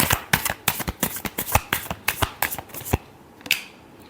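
Tarot cards shuffled by hand, a rapid series of crisp riffling bursts and flicks, close and fairly quiet, stopping briefly near the end before one last riffle.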